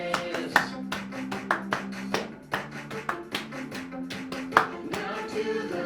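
Hands clapping in a children's sing-along, sharp rhythmic claps in a steady beat laid over music with sustained tones.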